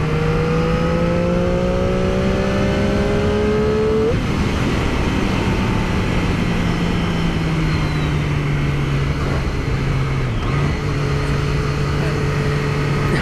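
A 2017 Triumph Daytona 675 motorcycle pulls hard on a highway, its engine note rising steadily with a sharp quick-shifter gear change partway through, then droning on amid loud wind rush close to the rider.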